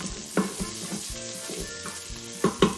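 Pats of butter sizzling with already-cooked bacon in an Instant Pot, a soft continuous fry with a few louder stirring scrapes and clicks, close by and without talk.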